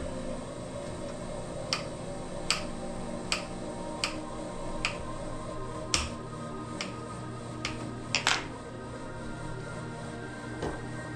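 A bread machine runs with a steady, low mechanical hum throughout a home kitchen, while sharp knife chops on a cutting board tap irregularly over it.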